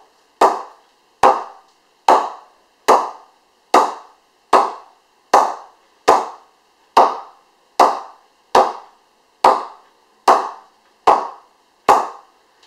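Cricket ball knocked repeatedly against an English willow cricket bat, about fifteen sharp, ringing pings at a steady rhythm, close and loud with no talking.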